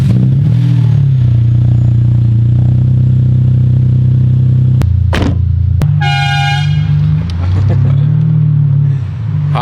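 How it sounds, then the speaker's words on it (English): A Ferrari engine idles loudly nearby, then its horn honks in a couple of short blasts, with some clatter around them. "Honking at the mother-in-law"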